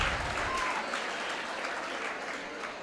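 A college audience at a talk program claps together in a steady, even wash of applause that holds for about three seconds. It fades slightly toward the end, with no speech over it.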